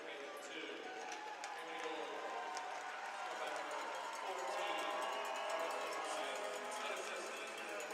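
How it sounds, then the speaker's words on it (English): Hockey fans applaud the Mayhem players as they leave the ice after a game against the Pensacola Ice Flyers: steady, dense crowd clapping and murmur filling the arena throughout, swelling slightly midway, heard from a distance. "So the fans giving the players one last round of applause before they head off the ice"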